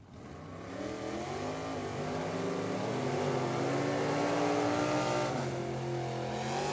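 At a drag strip, a Chevy Camaro launches from the line. Its engine builds from a low rumble to a loud, sustained roar with rising harmonic tones, nearby and without talking.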